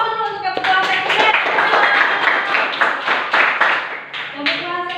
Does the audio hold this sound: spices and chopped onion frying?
no